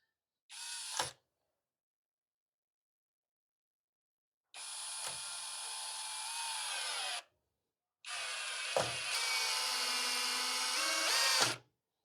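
A Tecepo 21V cordless drill drives a screw into wood in three bursts: a brief whir, then two longer, high-pitched runs that strain and end with a click as the screw seats.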